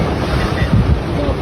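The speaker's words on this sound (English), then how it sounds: "Waves are breaking on the goddamn pool." Ocean waves break against the edge of a pool in a steady, loud roar of rushing water and wind, close to the microphone, with no talk over it.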